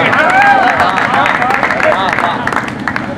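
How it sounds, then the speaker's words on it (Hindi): A crowd at a Hindi poetry gathering (kavi sammelan) in Fatehpur breaks into loud, dense applause mixed with voices and cheering, sustained throughout and tapering slightly at the end. "अब आप ताली बजा दो तो हम भी कविता पढ़ते।"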